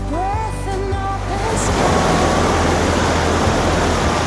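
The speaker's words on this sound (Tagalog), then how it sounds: "So maalon lang kasi high tide." High-tide ocean waves on a beach at Sagñay, Camarines Sur, make a loud, continuous wash of surf that builds and holds steady, with a few brief voices near the start.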